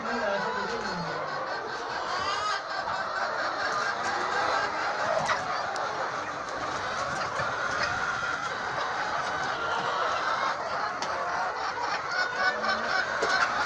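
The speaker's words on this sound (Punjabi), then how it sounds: "1400 ਗ੍ਰਾਮ ਦੀ ਮੁਰਗੀ ਹੈ ਜੀ ਸੋਹਣੀ ਮੁਰਗੀ ਤੰਦਰੁਸਤ ਜਾਨਵਰ" Golden Misri hens, including one weighing about 1400 grams, cluck and honk in a busy poultry yard, a steady crowded din of fowl calls running throughout with faint voices mixed in.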